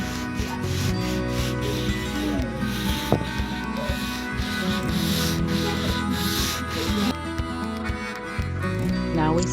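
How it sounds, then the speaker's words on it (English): Continuous scratchy rubbing of sanding on skim-coated walls, steady and close, with occasional knocks and shifts in the strokes. "the sanding of everything I skim coated"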